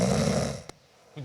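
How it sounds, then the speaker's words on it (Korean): A person snores loudly and close, one long rasping inhaled snore that fades into quiet, with the start of another breath at the very end. "아, 코 고는 소리예요?"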